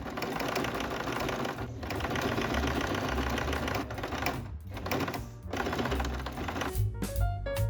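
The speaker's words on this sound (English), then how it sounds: "Top stitch close to the edge." Sewing machine top stitching a quilted tote bag near its zipper, a loud steady rapid mechanical chatter running almost continuously, with brief pauses and a few clicks toward the end.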